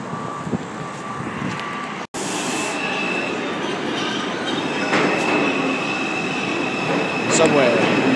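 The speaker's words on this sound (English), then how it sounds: "Subway." A New York City subway train rumbles loudly through a station, wheels clattering and screeching at a high pitch, with people talking faintly beneath the steady roar.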